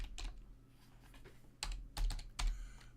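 Keys clatter on a computer keyboard in short irregular bursts, a few soft isolated taps followed by louder clustered strokes, close and clear with no voices.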